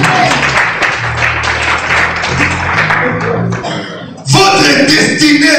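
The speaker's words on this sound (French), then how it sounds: "Applaudissez Jésus-Christ." Church congregation applauding during a French-language sermon, a steady wash of clapping with musical tones underneath, briefly dipping before resuming loudly.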